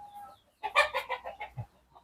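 Chickens on a small poultry farm with earth flooring, a close run of six or seven quick clucks in an uneven burst, clear against a quiet background.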